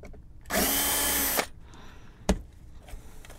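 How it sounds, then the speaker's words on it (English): A power drill whirs for about a second drilling a pilot hole for screws while a Sencore Mighty Mite TC-154 tube tester is worked on, loud and close, followed by a sharp click and light handling. "drill some pilot holes here, and then you can put the screws in"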